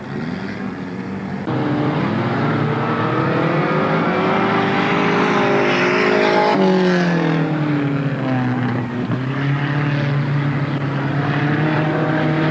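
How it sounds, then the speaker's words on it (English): 360 sprint stock cars race around a dirt oval at Marysville, California, their engines roaring loudly with rising and falling revs as the pack passes close by. "it's Philip Houston after the first lap in the lead. And the red flag is out"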